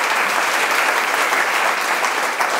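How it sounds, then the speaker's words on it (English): Audience at a school district awards luncheon applauding an honoree, a full, even wash of many hands clapping at once, loud and sustained for the whole stretch. "Applause."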